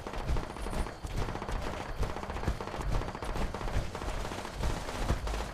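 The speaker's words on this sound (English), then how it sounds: "Oh, that sounds like a turret." Rapid automatic gunfire from a turret in the video game Fallout 76, dense overlapping bursts rattling continuously and loudly for the whole stretch, with no talking.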